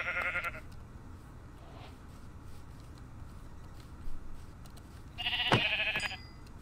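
A Minecraft sheep bleats twice, once right at the start and again near the end. The calls are short and nasal and stand out clearly against a quiet, low background.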